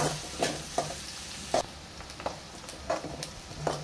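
Sliced onions and green chillies frying in a pan, with a steady soft sizzle broken by repeated scraping strokes of a spoon stirring them every second or so.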